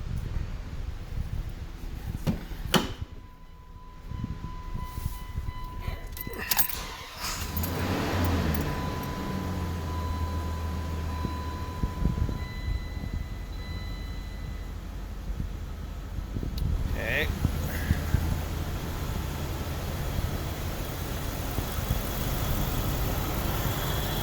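A 1997 Dodge Dakota with a bad crank sensor causing stalling, keys jangling before the engine cranks and starts, then settles into a steady close idle that continues to the end.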